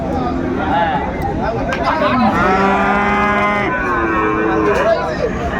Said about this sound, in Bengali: আর আমরা দেখছিলাম এখানে চমৎকার একটি ষাঁড় বাচ্চা।